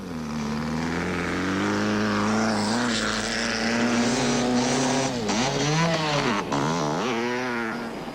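Loud, sustained engine drone with rising and falling pitch as several motorcycles, including KTM and Kawasaki bikes, race past nearby through slush in the 1988 Baberspan 500, revving and shifting continuously.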